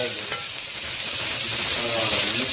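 Plenty of onions sautéing in olive oil in a pan, a dense, even sizzle and frying hiss close by, steady and loud for a couple of seconds with no voices over it.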